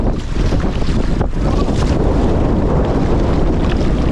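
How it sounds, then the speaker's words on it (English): Strong wind roars over open bedrock in remote Canadian wilderness, a loud, constant rushing blast that buffets the microphone, with one brief dip early on before the gusting holds steady. "It's gotten so windy."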